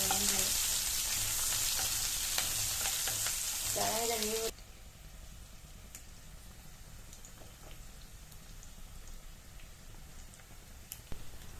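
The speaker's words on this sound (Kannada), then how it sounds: "ಅದನ್ನು ಸ್ವಲ್ಪ ಬ್ರೌನ್ ಕಲರ್ ಬರೋವರೆಗೂ ಫ್ರೈ ಮಾಡಿದ್ರೆ ತುಂಬಾ ಚೆನ್ನಾಗಿ ಟೇಸ್ಟ್ ಬರುತ್ತೆ" Onions frying in a pan for a dhaba-style stuffed brinjal curry: a loud, dense sizzle with a few stirring scrapes, then the sizzling abruptly drops to a quieter, crackling simmer for the rest.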